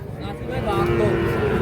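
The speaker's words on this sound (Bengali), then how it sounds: "আমরা এ পাশে দেখছিলাম কয়েকটা বাছুর" A Sahiwal calf at a busy cattle market lets out one loud, drawn-out moo close by, over a background of crowd noise.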